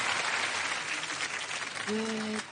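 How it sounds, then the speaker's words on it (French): Applause from a group fills most of the clip, fading near the end as a sustained tone enters, during a hypnosis show. "Allez, on applaudit Daniel."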